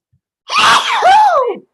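A single loud, drawn-out sneeze with a rising, voiced groan-like tail, close to the listener.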